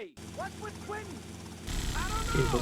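Helicopter in Grand Theft Auto: Vice City, a steady rotor and engine drone that grows louder partway through, heard beneath people talking.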